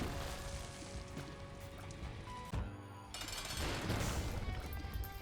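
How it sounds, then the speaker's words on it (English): A big explosion in The Binding of Isaac Repentance+, a sudden loud burst near the middle that leaves a broad rumbling crackle continuing to the end over game music. "so we get a big time explosion there."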